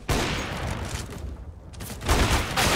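Gunfire in the CS:GO first-person shooter, a dense fusillade of shots that runs loud and close almost throughout, dipping briefly before a renewed burst toward the end.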